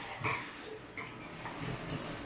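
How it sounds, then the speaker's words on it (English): A dog whimpers faintly indoors in a few soft, brief whines scattered across quiet background noise. "that's my dog. Sorry."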